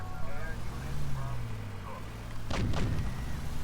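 APC tank turret cannon firing in Grand Theft Auto IV, one sharp heavy blast near the end over a low vehicle engine rumble, with people talking across the clip.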